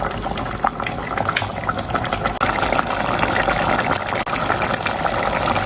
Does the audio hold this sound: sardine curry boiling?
yes